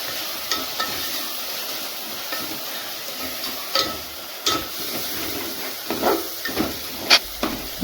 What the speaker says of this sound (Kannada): ಟೊಮೆಟೊ ಹಣ್ಣು ಹಾಕೊಂಡ್ಮೇಲೆ ಸ್ವಲ್ಪ ಉಪ್ಪನ್ನ ಹಾಕ್ಕೊಳ್ಳಿ ಆವಾಗ ಜಲ್ದಿ ಮೆತ್ತಗಾಗುತ್ತೆ ಟೊಮೆಟೊನು ಮತ್ತು ಚೆನ್ನಾಗಿ ಫ್ರೈ ಮಾಡ್ಕೊಳ್ಳಿ